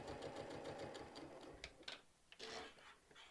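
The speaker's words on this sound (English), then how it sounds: "when I'm at my sewing machine" A sewing machine stitching a quilted mug rug runs at a steady rapid pace in the foreground, its rhythmic needle clatter continuing alone before a few brief fabric rustles and handling clicks.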